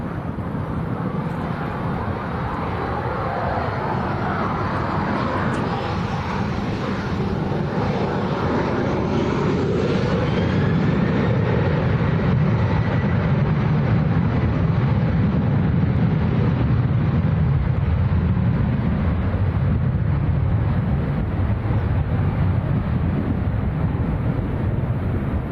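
A Ryanair airliner bound for Alicante departs in a strong crosswind, a loud continuous jet roar that builds and holds at a distance, with wind buffeting the microphone throughout.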